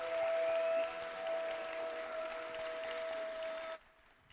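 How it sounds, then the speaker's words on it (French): A thunderous round of audience applause for a blind or visually impaired singer at a French song-contest final, dense and steady, with a held tone ringing through it before the clapping drops away sharply near the end. "je veux encore un tonnerre d'applaudissements pour l'encourager au maximum, pour lui donner de la force"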